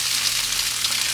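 Stir fry for Pad Thai sizzles loudly and continuously in a pan with only a little oil, a dense, even hiss with no talk.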